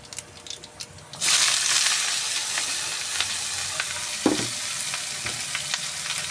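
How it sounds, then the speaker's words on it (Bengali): Ash gourd with black cumin seeds hits hot oil after a quiet start, then sizzles loudly and steadily while faint stirring clicks and taps come through. "এখন চাল কুমড়ো ভাজাটা বসাবো কালো জিরে সোমবার দিয়ে।"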